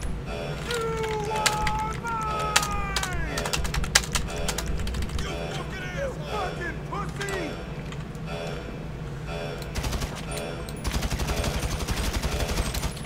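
Gunfire in the Mercenaries DLC video game, a headshot among rapid repeated shots, crackling bursts under a player's constant chatter and game sound.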